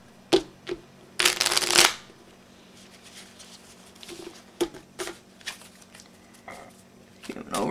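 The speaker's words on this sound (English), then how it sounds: "Give them some shuffles." A deck of playing cards is riffled and shuffled by hand, one long loud burst followed by several shorter crisp bursts, with quiet pauses between.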